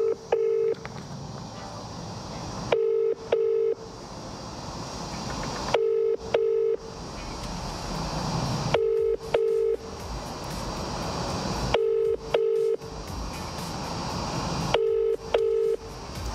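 A telephone line for a live phone draw dials and rings, with paired electronic tone bursts repeating roughly every three seconds over a steady background hiss, and no talking.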